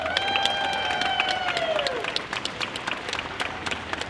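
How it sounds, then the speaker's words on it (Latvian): A concert audience at a diaspora choir performance bursts into sustained applause, dense clapping that stays fairly even while a sung or sustained tone fades in the first half. "Aplausi!"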